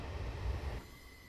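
A Class 450 electric train in Train Simulator 2017 rumbles along under braking, a steady low rolling drone with wheel noise that eases and drops off partway through.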